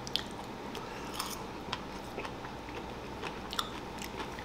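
Bites of crunchy breaded salmon coated in sour cream and onion: close, crisp crunches and scattered moist chewing in an irregular rhythm, moderately loud, with no talking.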